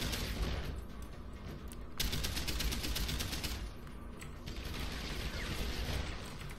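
Gunfire in the video game Deus Ex: Human Revolution: sustained rapid bursts of shots filling the clip, with a sharp onset around two seconds and brief lulls between volleys, loud and steady throughout with no talking.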